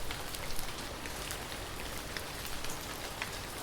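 Steady rain falls on a surface outside an abandoned theater, a dense, even hiss with scattered droplet ticks throughout, fairly soft and continuous with no voice.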